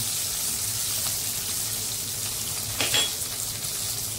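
Green chillies frying in a pan as turmeric goes in, a continuous close sizzle with a low steady hum underneath and one brief louder spatter of stirring near the end.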